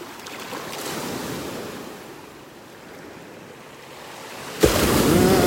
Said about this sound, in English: Every once in a while, a big wave comes along. You can hear them crashing, the big ones.